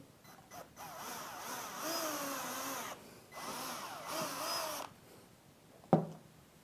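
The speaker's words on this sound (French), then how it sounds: "on va faire le pré-trou pour le crochet qui va servir à accrocher le casque" A power drill with a 2.5 mm bit bores a pilot hole for a headset hook, whirring in two steady bursts of about two seconds each, then a sharp knock as it stops.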